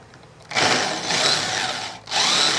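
A power drill bores into wood to make a lock for a Thai knife sheath, with two sustained close, loud whirring runs separated by a short pause and a quiet lead-in.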